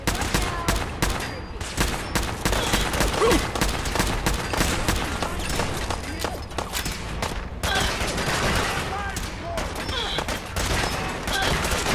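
Sustained gunfire in Fallout 4: rapid, dense volleys of shots and bursts run through the whole stretch at close range, with brief lulls, and a voice is faintly present underneath.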